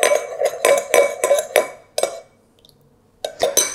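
Spoon clinking against a bowl while mixing teriyaki or hoisin sauce with rice vinegar, a quick run of sharp metallic taps, a brief pause, then a few more clinks, close and without talk.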